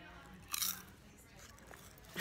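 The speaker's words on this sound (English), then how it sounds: "She's about to crunch in my ear." Popcorn crunched close to the microphone gives two brief, sharp crunching bites, one early and one at the end, faint and crackly against a quiet background, with people talking around them.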